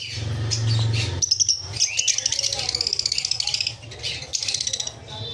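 Pet lovebirds and cockatiels chirp and squawk in a home, a dense run of quick high calls throughout, faint against a low hum and a brief murmur of voices at the start.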